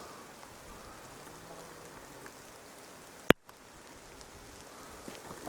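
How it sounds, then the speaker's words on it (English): Rain falling during an outdoor stop near Battle Mountain, a soft, even hiss of drops that runs throughout, briefly broken by a sharp click and a short dropout. "It's raining right now"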